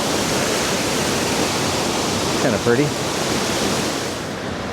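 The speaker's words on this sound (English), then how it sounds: "You can hear the water going over that controlled drop." Broad, steady rush of water pours over a controlled drop at a lake, loud and close, with a brief spoken remark partway through.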